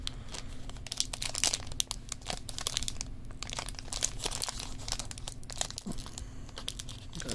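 A wrapper on a 2021-22 Illusions basketball trading card pack is torn open by hand, giving continuous close crinkling and tearing of foil-like plastic with a low steady hum behind it.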